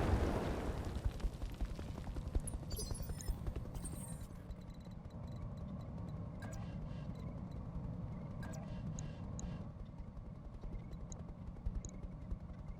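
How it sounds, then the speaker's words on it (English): Swarm missiles from a mech in the game Roguetech pound a target in a dense, rumbling barrage of explosions that starts loud and keeps churning as a steady low roar, with sharp crackling bursts scattered over it and no talking. "Swarm missiles for the win."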